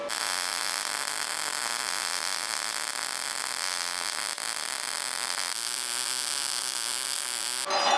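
An Arccaptain MIG 200 welder running a continuous bead on steel tubing, a steady loud crackling hiss with an electrical buzz that holds evenly for several seconds, no speech.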